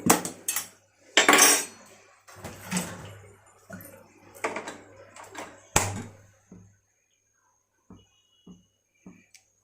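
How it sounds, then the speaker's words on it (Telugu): Metal clanks and knocks of a pot being handled and set down on a stove, several sharp hits early on, then a few lighter taps spaced apart. "ఇప్పుడు గిన్నె పెట్టుకొని పోపు వేసుకుందాం చారు"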